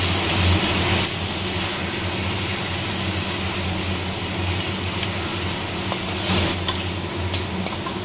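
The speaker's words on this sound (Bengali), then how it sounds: "মাছগুলো ভাজা ভাজা হয়ে গেছে" Prawns fry and sizzle in a pan while being stirred, a steady broadband hiss with scraping stir strokes and a few sharper clatters near the end; nobody speaks.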